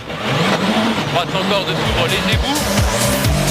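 A WRC rally car at Rallye Deutschland 2007 spins out as its wheels hit the grass, engine revs rising and falling with tire squeal, loud and close beneath a commentator's voice.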